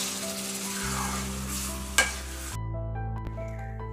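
Food stirred in a covered pan after the lid is lifted, with a steady sizzle and a low hum, one sharp clink of the lid or spoon near the middle and softer scrapes after.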